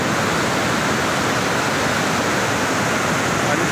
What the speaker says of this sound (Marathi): पूर्ण भरून असा धबधब्याने हा पाऊस